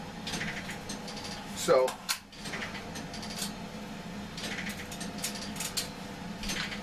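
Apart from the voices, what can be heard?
Sightmark tactical magnifier being mounted back onto a gun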